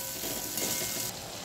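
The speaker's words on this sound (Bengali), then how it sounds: "আলুগুলো ভাজাই আছে, একটুখানি নাড়াচাড়া করে নেব মশলাটার সঙ্গে" Fried potatoes are stirred into a cooked spice paste in a pan for a banana flower curry, giving a steady close sizzle with a light shift in texture as they are moved, no talk.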